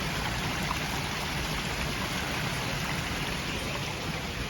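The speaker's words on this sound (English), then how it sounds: "This is a wall of water. Fountains, little fountains coming out." Man-made wall of water with small fountains spouting in a park in Uruapan, Mexico, giving a steady, dense rushing splash that stays even and close throughout with no voices.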